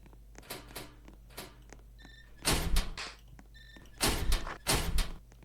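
A door in a Roblox game thuds shut twice in a row, heavy slamming impacts with short clanks, over faint background hum and light taps.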